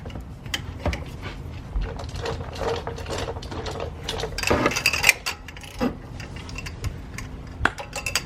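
Metallic ratcheting and clanks from a breaker bar working loose a wheel hub bolt on a Chrysler Town and Country minivan, irregular close clicks and knocks with a few sharper bangs.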